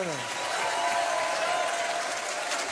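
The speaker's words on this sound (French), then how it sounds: "Encore quelques applaudissements, s'il vous plaît, pour Nelson." Steady applause from a television studio audience fills the whole moment, dense and even clapping without breaks.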